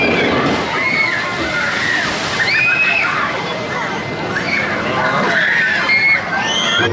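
Water sloshing and splashing from the Pirate Shores water ride drop at LEGOLAND Windsor, a steady wash of spray with a crowd babbling in the background throughout.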